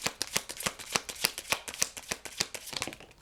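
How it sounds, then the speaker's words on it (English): Tarot cards shuffled by hand in a quick, steady riffling rhythm of soft papery slaps, close and alone without talk. "So I got to keep shuffling."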